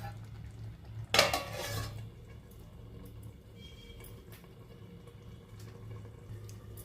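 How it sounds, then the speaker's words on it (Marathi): A lid clatters onto a pan of cooking prawn masala, a loud metallic clang with a short ringing tail, followed by the quiet hum and sizzle of the stovetop. "आता पुन्हा एकदा त्यावर झाकण ठेवूया."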